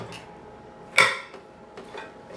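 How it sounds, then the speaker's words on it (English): Samosa filling stirred in a bowl, a single sharp clink of a spoon against the dish followed by a few lighter scrapes and taps, close and alone with no talking. "This is a jolly good old stir"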